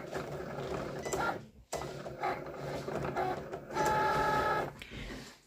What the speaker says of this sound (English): I just click this flashing light and hopefully this is going to cut nicely